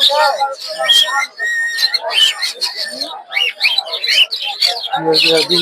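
Many caged birds chirp and whistle in dense overlapping bursts at a busy bird, rabbit and pigeon market, loud and close with barely a pause.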